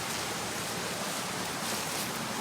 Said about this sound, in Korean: 와 물소리 좋다